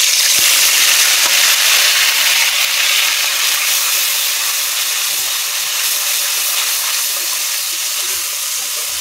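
A ground paste of onion, ginger, garlic, coriander leaves and a little mustard sizzles loudly in oil in a wok, a bright steady hiss that eases slightly toward the end.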